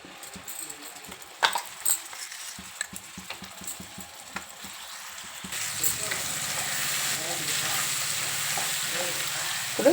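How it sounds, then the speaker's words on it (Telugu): Ground gooseberry chutney drops into hot tempering oil, starting with scattered clicks and stirring taps before a sudden, steady loud sizzle takes over and continues to the end. "ఇప్పుడు ఈ తాలింపులో ఈ పచ్చడి వేసేసుకుందాం."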